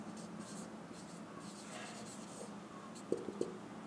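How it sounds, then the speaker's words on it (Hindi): Marker or chalk scratching out a geometry proof on a classroom board, a soft continuous scribbling texture with a couple of sharp taps near the end, faint and fairly close in a quiet room. "तो यहां लिखते हैं प्रूफ।"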